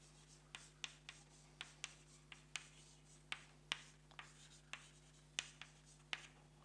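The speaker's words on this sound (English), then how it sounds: "And I draw a picture." Quiet, rhythmic taps and short strokes of chalk or marker on a board during a lecture, about fifteen light marks at a steady pace over a low room hum.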